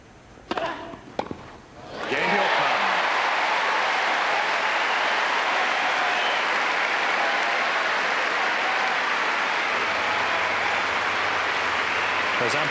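A large tennis crowd cheering and applauding for Bjorkman in a tight third set against Rafter at a 1999 match, a few sharp thuds at first, then a sustained roar of clapping and cheers under a commentator's voice.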